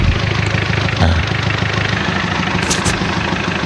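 A Thai farm tractor engine runs steadily at idle, a close, loud, continuous low rumble with some mechanical clatter.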